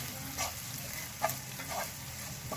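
Onions with ginger-garlic paste frying on a high flame, a steady close sizzle with soft crackles and occasional stirring scrapes, no voices.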